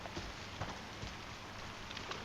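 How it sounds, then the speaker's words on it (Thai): Steady rain patter in the Arena Breakout game world under overcast, dark skies, a continuous close hiss with soft scattered drop ticks and no speech. "มืดมืดฝนตกด้วย ฟ้าครึ้มอย่างเงี้ย"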